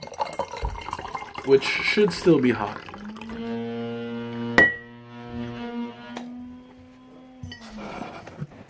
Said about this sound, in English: I'm going to pour out the rest of the tea,